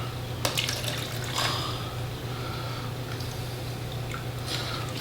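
Cold distilled water poured for a gesso and glue mix, a continuous liquid trickle with a few splashy clinks over a steady low hum.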